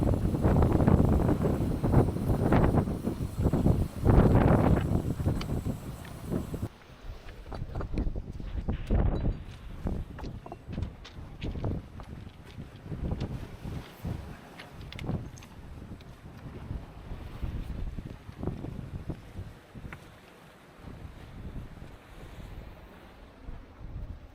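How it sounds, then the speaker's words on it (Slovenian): Strong gusting bora wind buffets the microphone, roaring loud at first and then easing into uneven gusts over a wash of surf. "Piha burja."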